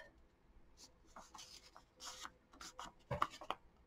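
Paper pages from a page-a-day calendar book being ripped and rubbed, soft rasping tears building to a few sharper rips near the end, close and quiet with no talking.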